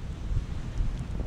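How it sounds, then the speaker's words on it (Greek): Wind blowing by the sea on a wavy day at the coast, a low rumbling buffet across the microphone, steady and loud, with no voices. "αέρα έχει, κύματα έχει θάλασσα"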